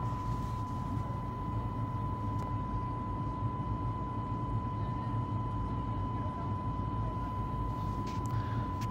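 A steady, low cabin drone fills a Boeing 737 MAX 8 just after takeoff, a constant engine and airflow rumble with a faint tonal hum, unchanging throughout.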